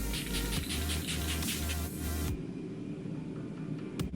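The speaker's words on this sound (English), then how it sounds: "So I'm gonna just spray my face." Too Faced HangoveRx 3-in-1 primer and setting spray misted onto a face, a loud steady hiss lasting about two seconds, followed by quieter room noise and a brief later rustle.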